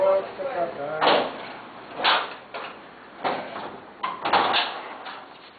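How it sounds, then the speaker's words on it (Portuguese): A car door is opened with a few dull clunks and latch knocks spaced about a second apart, close by, while a person talks over the handling noises. "abrindo a porta"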